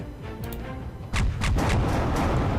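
Flak barrage attack in the space strategy game Halcyon 6, heard as a dense, sustained roll of booming explosions that steps up loud partway through and keeps pounding steadily to the end.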